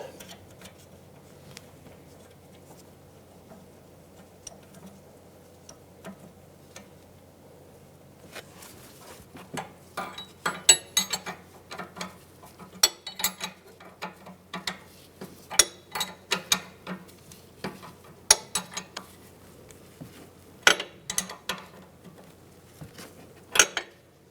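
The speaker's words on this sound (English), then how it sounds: "we'll go ahead and tighten up the nuts" Ratchet tightening nuts on the inner tie rod of a 2010-2016 Cadillac SRX, quiet at first, then rapid clicking bursts and metallic clinks close by, in uneven spurts.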